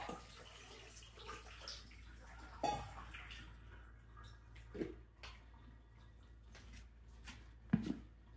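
Water drains from falooda noodles poured into a strainer, a soft continuous trickle and splash with three louder sloshing pours spaced a couple of seconds apart.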